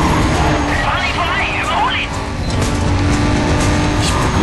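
Race cars in the video game Need for Speed Carbon roar steadily through an overtaking attempt, engines loud and continuous with a brief tire squeal, while someone talks over the game sound.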